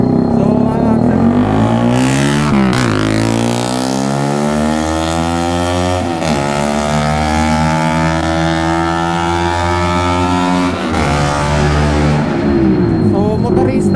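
Motorcycles on the Kaybiang twisties road roar past close by, loud engines revving and shifting pitch as they accelerate in succession, filling the scene continuously without pause.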